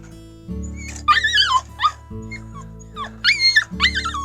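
A puppy whimpers and yips in short, high bursts close by, several rising and falling whines spaced across the moment over a low steady hum from an outdoor off-grid setting.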